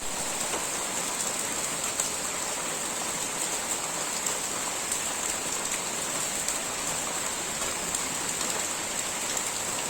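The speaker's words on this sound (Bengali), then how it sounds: "টিনের চালের বৃষ্টির ঝুমঝুম শব্দে ঘুমটা একদমই চলে আসে" Heavy rain drums on the tin roof of a village house, a dense, even hiss with constant patter that never lets up, moderately loud with no voices.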